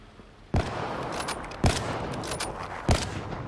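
The Lotus rifle fires in Black Ops 3 arena play, with three loud, sharp single shots spaced roughly a second apart, each followed by a dense burst of in-game battle noise.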